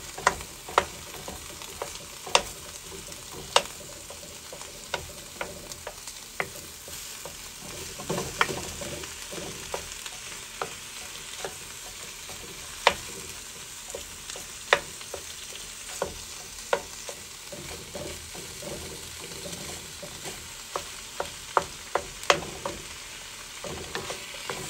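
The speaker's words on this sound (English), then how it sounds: "I'm just going to keep stirring and letting this cook" Homegrown hamburger meat frying in a pan hisses in a steady low sizzle, with frequent sharp clicks and scrapes of a utensil stirring throughout, close and moderately quiet, no voices.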